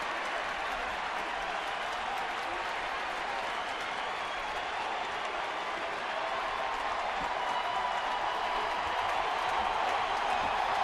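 A sellout baseball crowd at a Diamondbacks versus Giants game in San Francisco roars in a steady, dense wash of cheering and clapping that swells slightly toward the end, with no clear voice standing out.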